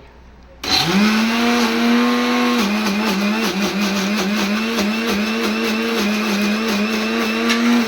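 A mixer grinder whirs up loud and close, grinding chutney with a steady high-pitched motor whine that holds pitch with slight wobbles throughout.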